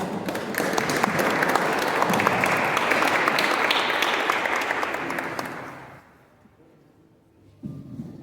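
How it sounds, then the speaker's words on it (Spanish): An audience at a book presentation on Peruvian cultural policy breaks into loud, sustained applause to welcome a speaker. The clapping lasts about six seconds, then fades to near silence before a voice begins. "Lo recibimos con un fuerte voto de aplauso."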